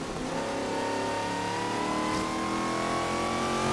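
A supercharged car engine in Forza Horizon 3 revs hard and steadily, its pitch climbing continuously, loud and close with no talk.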